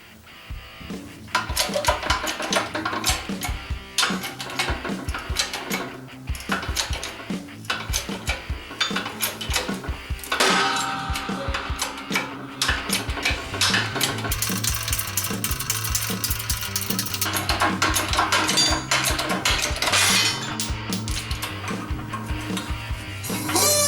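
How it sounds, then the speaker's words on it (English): A BETA 1535/C4 bearing puller kit presses a front wheel hub assembly out of its bearing, giving a busy, continuous stream of close metallic clanks, scraping and grinding that stays steady and fairly loud throughout. "now we can go ahead and completely press the entire hub assembly out"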